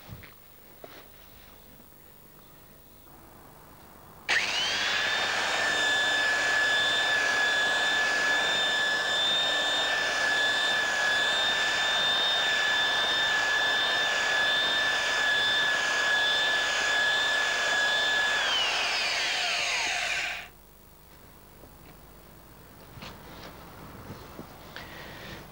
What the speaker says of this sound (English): I'm just sanding off this sheepskin.